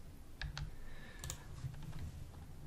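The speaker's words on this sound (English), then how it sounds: "So just start typing and there it is." Quiet bursts of computer keyboard typing while working in a game modding editor, a few scattered keystrokes and short clusters of clicks, close and soft with no talk.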